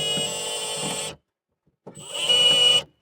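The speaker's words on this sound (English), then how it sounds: "I'm just going to drill it out for you." A drill bores into a center-punched spot on the curved body panel of a 1971 Monte Carlo, whining steadily in two close bursts separated by a brief silent pause, the second rising in pitch and strain.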